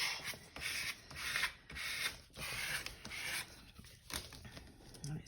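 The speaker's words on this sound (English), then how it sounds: "let's give that a bit of a burnish" Paper on an altered envelope is burnished with a tool in a series of soft, close scraping and rubbing strokes, some short pauses between them, fairly quiet and with no talk.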